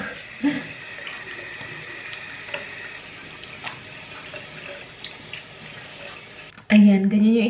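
Water runs from a tap while a face mask is rinsed off, a faint steady trickle with small splashes, ending in a louder burst near the close.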